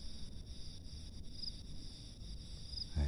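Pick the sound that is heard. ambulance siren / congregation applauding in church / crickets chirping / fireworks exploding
crickets chirping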